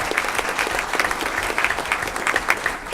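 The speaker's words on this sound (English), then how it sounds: "Give her a round of applause." An audience at a school district board meeting claps steadily, a dense patter of many hands that holds at even loudness throughout, with no one speaking over it.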